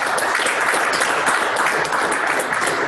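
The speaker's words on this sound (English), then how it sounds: "Let's give a round of applause to Ashley for making this happen." A business networking audience of veterans applauds in a dense, steady roar of many hands, loud and even from start to finish with no pauses.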